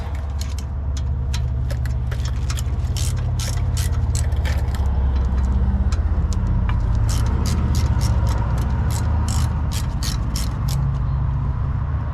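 Brake caliper being pulled off a 1984 Dodge W150 truck, with quick metallic clicks and ratcheting taps over a low steady rumble. The clicks come in scattered bursts, close and fairly loud.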